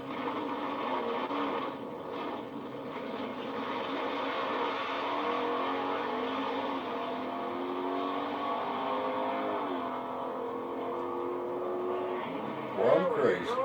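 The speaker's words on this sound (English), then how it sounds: "Nice looking 69 Camaro." A 1969 Chevrolet Camaro with a muffler revs and drives at a car event. Its engine drone runs steadily throughout, with a rising rev near the end and a voice talking over it.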